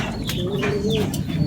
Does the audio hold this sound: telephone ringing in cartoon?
no